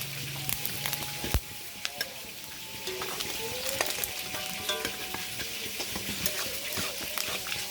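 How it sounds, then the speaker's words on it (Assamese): Fish roe frying in mustard oil in a pan, a steady close crackling sizzle with occasional stirring scrapes and clinks of utensils, no talking. "মাছ ভজা তেলখিনিতে মই আৰু অলপ এড কৰিছোঁ সৰিয়হ তেল"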